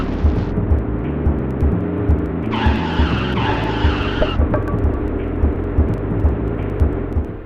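Cars skidding in the RPM Racing video game, with a steady engine drone running throughout and a brighter squealing skid rising for a couple of seconds in the middle, loud and continuous with no talking.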